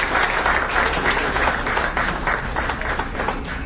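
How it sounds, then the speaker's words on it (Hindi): Audience at a Bhojpuri film event giving a loud, steady round of applause, dense clapping alone without talk. "मैं चाहूंगा कि उनके लिए एक जोरदार ताली होनी चाहिए"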